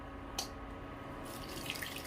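Water runs steadily from a tap for a couple of seconds into mixed flour for dough, a soft continuous splashing with a faint clink near the start.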